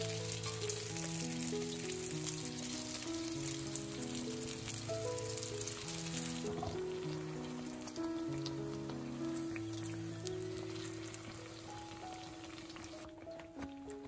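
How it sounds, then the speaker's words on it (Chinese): Youtiao dough sticks made from pizza dough frying in hot oil, a dense continuous sizzle like light rain, heard close and steady under background music with no voices. "放入油锅中，一会就浮上油面。 用筷子轻轻拨动，使油条的各个面受热均匀。"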